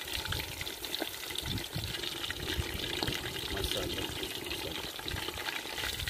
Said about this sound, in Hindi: चिकन देखिए माशाल्लाह कितना ज़बरदस्त फ्राई हो रहा है